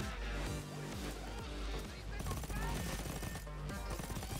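Rapid gunfire from a first-person shooter game called KSP crackles in dense, overlapping bursts throughout, with a player's voice heard over the shooting.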